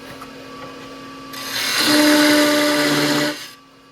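A Bedan tool taking a heavy cut on a wooden spin top spinning on a lathe, a loud close scraping whine that rises suddenly, holds for about two seconds, then stops, with a faint motor hum before and after.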